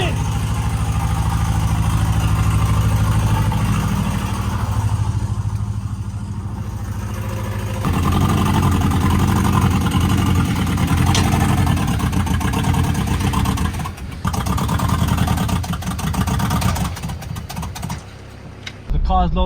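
Honda Civic on the move along a road, with a steady loud engine and road drone throughout, briefly dipping near the end, while voices talk over it.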